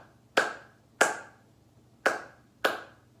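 Single hand claps ring out one at a time, five sharp slaps spaced under a second apart in a quiet room, each with a short decaying tail, varying somewhat in strength.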